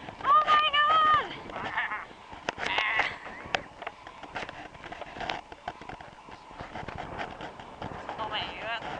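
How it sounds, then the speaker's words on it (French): Sheep bleat in the Scottish countryside, with a clear wavering call at the start and more bleats scattered through, mixed with excited voices talking nearby. "Il y a des moutons!"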